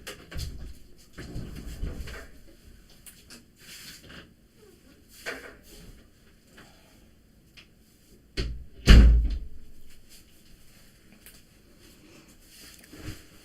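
A door is shut in a quiet room at home, giving one sharp, loud thud near the middle, with softer scattered knocks and shuffling before and after.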